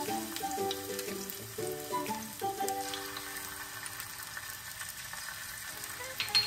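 Ginger garlic paste with green chilli paste sautéing in a pan for kadhi vada, a steady close sizzle with stirring scrapes, while musical tones run through the first half.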